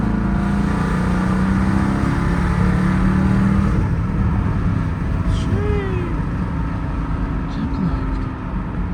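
Close by, a Dodge Durango R/T fitted with a straight-pipe exhaust and mid muffler delete idles and revs with a deep, throaty drone, while people talk over the engine.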